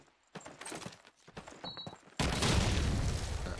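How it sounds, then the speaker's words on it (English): Grenade explosions in Call of Duty 2 on the Dawnville map during a competitive match: scattered thuds and clatter give way to a sudden loud, sustained blast rumble that fills the last second and a half. "Irving's gonna toss out some nades together with his teammates"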